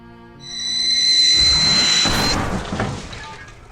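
A weapon fires in the Cthulhu adventure game Gibbous, a loud booming blast with a crashing burst that rises over a steady high tonal drone and then fades into a rumbling tail, with no talk.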